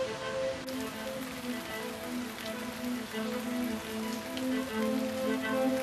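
Steady rain falls on surfaces, a continuous dense patter of drops at moderate level with a faint tonal hum underneath throughout.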